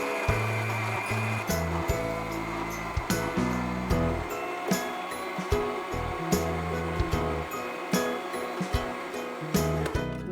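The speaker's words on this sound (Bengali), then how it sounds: "জাস্ট আমরা এটাকে ব্লেন্ড করে নেব।" A blender whirs steadily on a mango and sugar mixture, its motor holding a strong, close drone with brief changes in pitch throughout.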